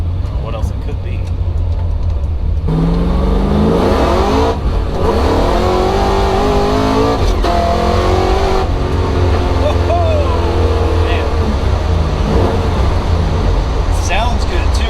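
Supercharged Chevy Nova V8 pulling hard under acceleration, a loud, close engine note rising through the gears with harmonic sweeps, steady road noise underneath and occasional voices inside the car.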